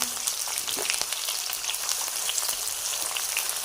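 Onions frying in about half a cup of hot oil for a masala base, a steady bright sizzle and crackle throughout, close and loud with no talking.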